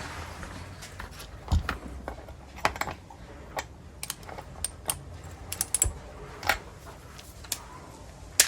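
Screws being tightened while assembling a Stihl MS 250 chainsaw: sharp, irregular metallic clicks and ticks close up over a quiet background, scattered in small clusters, with no talk.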